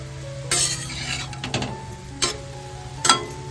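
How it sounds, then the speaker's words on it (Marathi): Mixed vegetables with a little oil and salt are stirred in a kadhai: four distinct scraping strokes over a low, steady sizzle, close by. "इकडे कढाईमध्ये आपण सर्व भाज्या घालून घेतोय म्हणजे थोडस तेल घालून आणि मीठ घालून"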